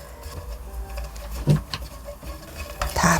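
Light patter and scraping of almonds stir-fried in a pan, soft irregular rattles with a couple of louder clicks, no voices.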